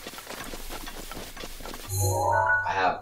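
Hooves clip-clop in a quick, steady run of steps in The Legend of Zelda: Breath of the Wild, then give way to a louder burst of tonal game sounds near the end.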